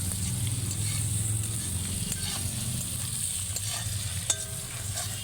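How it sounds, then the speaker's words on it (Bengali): Onions added to fried bhetki fish bones sizzle and fry in a pan, with a steady close frying hiss and the scrape of stirring throughout, including one sharper clink near the end. "মাছের কাঁটাগুলো ভাজা হয়ে গেছে, এবার আমি পেঁয়াজটা দিয়ে দিচ্ছি"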